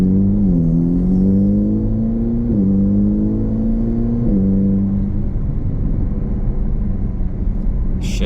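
A 2023 Ferrari Portofino engine drones steadily as the car drives, its pitch climbing through gears with three clean upshifts, loud and close with a rumbling low end throughout.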